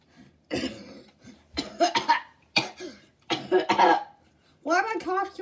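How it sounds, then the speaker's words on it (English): Harsh coughing close to the mic, about five rough bursts in a row with short pauses between them, some ending in a voiced rasp. "Why am I coughing so bad?"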